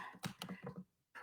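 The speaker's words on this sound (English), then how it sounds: "I'll type a little something." Quick burst of typing on a computer keyboard, a handful of close, soft key taps in a fast irregular run before a brief pause and one more tap.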